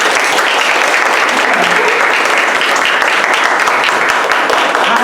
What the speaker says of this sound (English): Can we clap it up so I can hear what you do?